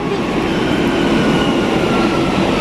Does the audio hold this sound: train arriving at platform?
yes